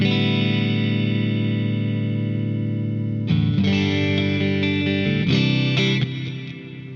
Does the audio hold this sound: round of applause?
no